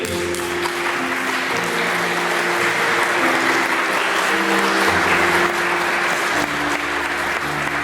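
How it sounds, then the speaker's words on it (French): A church congregation at a mass applauds a couple marking their wedding anniversary. The clapping is steady and sustained throughout, with a low murmur of voices underneath. "On pourrait les applaudir."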